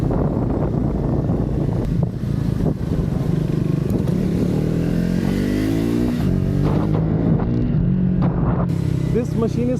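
A Triumph Speed 400 or Guerrilla 450 motorcycle rides along, its engine droning steadily and rising in pitch as it accelerates partway through, with wind rushing over the microphone and a rider talking over the noise.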